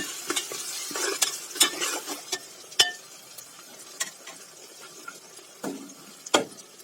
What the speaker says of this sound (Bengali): আদা রসুন একটু ভেজে নেব